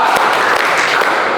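Schoolchildren in a classroom clap together in a chanted clapping game, a dense burst of hand claps with faint rhythmic accents, close and fairly loud throughout.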